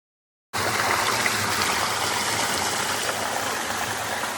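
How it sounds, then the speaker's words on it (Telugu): A waterfall roars in a constant, loud rushing wash of water that begins abruptly and stays steady throughout. "ఫైనలీ వాటర్ ఫాల్స్ దగ్గరికి అయితే మేము వచ్చేసాం"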